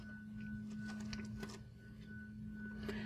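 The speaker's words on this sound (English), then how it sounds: "the printer is going through the motions here and realizing that this is the first time it's been turned on" An Epson SureColor F570 dye-sublimation printer initializes on its first power-on, giving a steady faint mechanical hum with a thin tone and scattered soft clicks and whirs from its moving parts.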